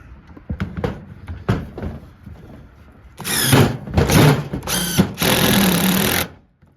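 A power drill with a long bit whirs in short bursts and then longer runs as a screw is driven into the wood of a raised garden bed, with clicks and knocks between.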